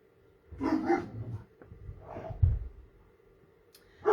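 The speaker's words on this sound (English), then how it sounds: "The dogs are distracting me." Indoor dogs let out a few close barks and whimpering yelps in two loose clusters, with quiet gaps between them and a sharp final bark at the end.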